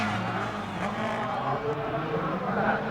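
Rally car racing at the 1990 Race of Champions, with a continuous loud engine roar and road or water-splash noise holding steady throughout.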